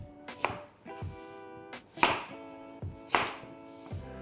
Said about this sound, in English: we're just going to cut through the sweet potatoes in rounds.